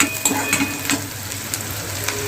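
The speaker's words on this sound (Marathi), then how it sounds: "कांदा जो आहे ना तो चांगला फ्राय झालेला आहे" Onions frying in a pan for a black chana dal, a steady close sizzle and hiss with a few soft stirring scrapes, no voices.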